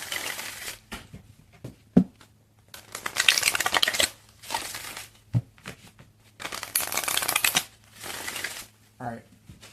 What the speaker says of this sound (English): I'm just going to shuffle this one more time for good measure.